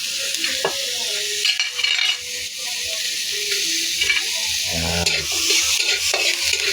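Garlic and onion sauté in melted butter with a continuous sizzle and frequent stirring scrapes and clinks of a utensil against the pan, close and steady throughout.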